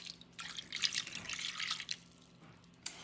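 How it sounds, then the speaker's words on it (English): Liquid smoke marinade poured over carrots in a home kitchen, a soft splashy drizzle with scattered drips for a few seconds, then a single sharp tap near the end, with no talking. "we are going to pour them over our carrots"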